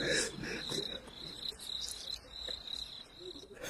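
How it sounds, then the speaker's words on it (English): Crickets chirp in a steady, high-pitched trill that repeats in quick pulses at moderate distance, continuing alone without talk. "I thought I could have sworn I heard crickets."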